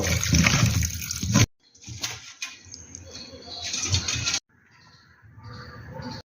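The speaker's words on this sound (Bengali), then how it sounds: "মাংসটা আমি উষ্ণ গরম জলে ভালো করে একটু ধুয়ে নেব।" Warm water splashes and runs over meat being washed for a Sunday meat curry, loud and close for about a second and a half, then continuing in softer, uneven sloshing bursts with brief gaps.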